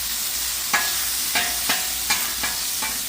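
Garlic fries on a Blackstone griddle with a steady close sizzle, broken by about six sharp scraping stirs of a spatula at a loose, uneven rhythm.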